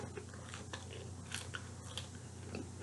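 Crunchy bites into Popeyes fried food during a mukbang: several crisp crackling crunches at close range, faint against a steady background hum, with no talking.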